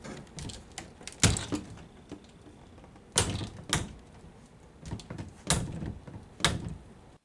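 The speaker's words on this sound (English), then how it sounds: "So the doors seem to work. Looks like it's closing properly." Basement closet doors on 1 3/4-inch hinges are swung open and shut, giving about half a dozen sharp knocks and bumps at uneven intervals, close by with quiet gaps between them.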